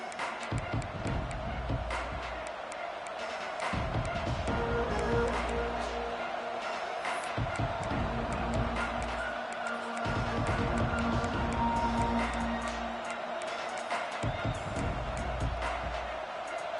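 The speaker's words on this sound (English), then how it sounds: "This crowd ready to make its presence known." Stadium crowd at an Auburn college football game, a broad sustained roar that swells and recedes in waves, with a commentator talking over it throughout.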